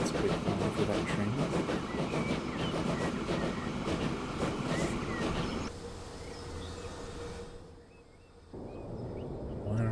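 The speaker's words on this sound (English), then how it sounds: "Let's wait for that train." Railway rumble of a train in the game Transport Fever 2, a dense rolling clatter that fills the first half and then thins to a quieter background hum with a brief dip before rising again.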